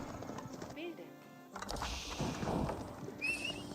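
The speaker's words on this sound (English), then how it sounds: "Horse archers advancing forward." Horse archers advancing on hooves in Age of Empires 4, heard as clip-clop hoofbeats with a neigh and scattered battle effects, under a commentator's voice.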